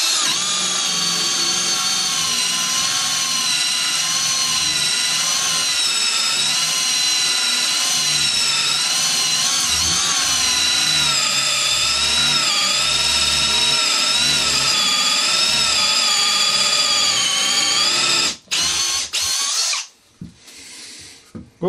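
A loud Milwaukee M18 Fuel cordless combi drill whines continuously as it bores through a wood knot with a worn bit, pitch wavering under load, then cuts out with a few brief stops near the end.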